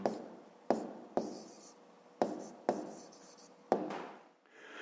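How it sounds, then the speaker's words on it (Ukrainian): A pen writes the answer to a fifth-grade math exercise on paper, a series of about six distinct scratchy strokes, each starting with a sharp onset and trailing off, close and clear with no talk. "Пишемо відповідь."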